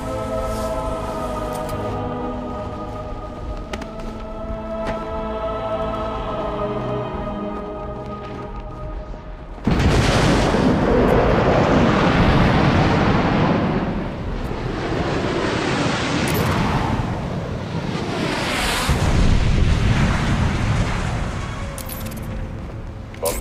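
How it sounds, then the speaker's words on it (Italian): Artillery bombardment of the museum in Batman: Arkham City: a low droning hum gives way to a sudden, loud, sustained roar of blasts and rumbling debris that swells and recedes. "Bombardamento iniziale del museo completato, signore."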